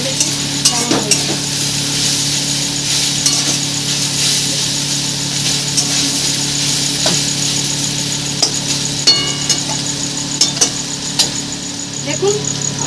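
Snake gourd with grated coconut frying in a pan for a Bengali bhaja, a loud continuous sizzle with occasional scraping stir clicks, no speech.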